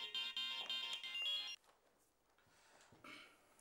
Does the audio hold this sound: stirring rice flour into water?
no